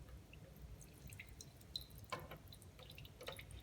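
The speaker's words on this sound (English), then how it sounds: "See if we can get this to come out the bottom drain holes." Water from a houseplant's watering dripping out of the pot's bottom drain holes: faint, scattered small drips and trickles over a low background hum, no voices.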